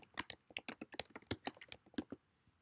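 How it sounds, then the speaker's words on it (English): Typing on a computer keyboard for a Google Classroom assignment: a quick, uneven run of close key clicks for about two seconds, then quiet. "I can type in this assignment,"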